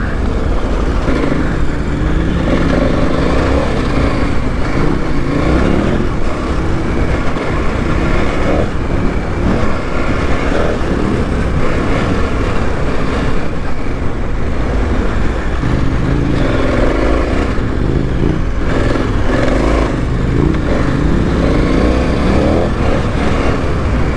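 A KTM 1290 Super Adventure R motorcycle rides a winding sandy gravel road, with a loud, steady engine drone and wind rush that never lets up.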